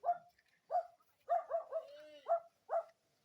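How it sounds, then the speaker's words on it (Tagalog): A dog barks repeatedly at moderate distance along an outdoor path, with seven sharp, evenly spaced woofs over a few seconds and no talk over them. "Oh my god, may aso."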